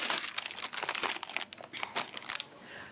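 Resealable plastic bag of beef dog treats crinkling and rustling continuously in short crisp bursts, handled close by at moderate volume, no talking.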